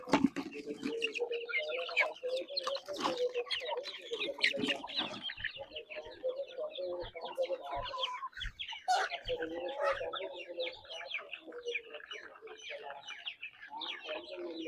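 A flock of native country chickens clucks steadily at feeding time on a farm, a dense, continuous chorus of overlapping clucks and squawks, close and fairly loud throughout.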